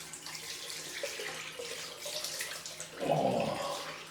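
Tap water running into a sink for a cold rinse after a head shave, a steady soft splashing flow that swells louder toward the end, nearby with no talking.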